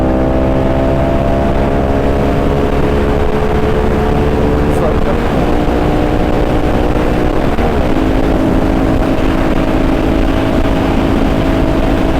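Honda Magna 250 carbureted V-twin motorcycle engine running steadily while riding in first gear, a loud continuous drone with harmonic lines that shift in pitch twice as the rider changes speed, with the rider talking over it.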